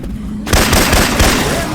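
Syphon Filter weapon sound effects fire in the video game Left 4 Dead 2, a sudden loud burst of gunfire that stays dense and booming after a brief quiet start.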